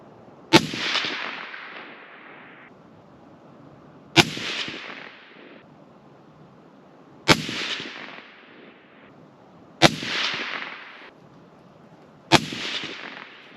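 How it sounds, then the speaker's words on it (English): Five single rifle shots from a Ruger Precision rifle firing Federal Power Shock ammunition, each a sharp loud crack followed by a decaying outdoor echo, spaced roughly three seconds apart with quiet in between. "that's a 5-shot group out of the same Ruger Precision rifle with the same Federal Power Shock ammo"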